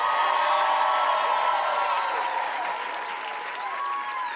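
Studio audience on a late-night TV show applauds and cheers for a live music performance, a dense, continuous wash of clapping with whoops that gradually eases off.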